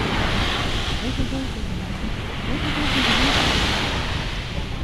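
Ocean surf rolls in at a beach, a steady broad wash of breaking waves with wind buffeting the microphone throughout and faint voices murmuring underneath.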